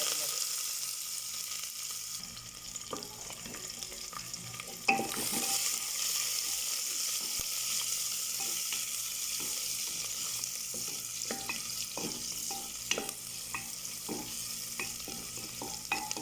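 Whole cinnamon, star anise, cardamom and onion frying in ghee inside a pressure cooker, a steady sizzle with scattered crackles and pops and occasional spoon scrapes, including a sharper clack near five seconds; no talking.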